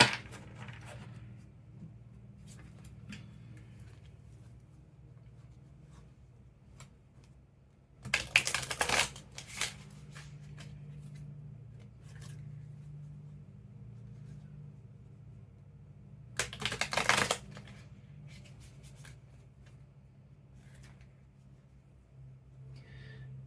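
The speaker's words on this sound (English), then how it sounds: "Let me shuffle it a couple of times off screen." Two short bursts of rapid oracle card shuffling, riffling crisply against a quiet room hum, separated by several seconds of near silence.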